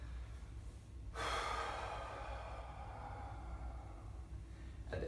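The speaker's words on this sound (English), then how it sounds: "So I'm gonna exhale." A long, steady exhale during a core-bracing demonstration for lower-back protection, starting as a sudden breathy rush after a second of quiet and continuing close and fairly loud to the end, with no talking.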